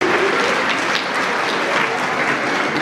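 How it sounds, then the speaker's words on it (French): A crowd at an independence day party claps loudly and continuously for the door staff, a dense unbroken wash of applause with no talk over it. "On peut les applaudir, allez-y."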